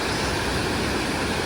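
Forceful water rushes at a bathing spot close to Badulla town in Sri Lanka, a dense, unbroken roar filling the short stretch, loud and near, with no voices.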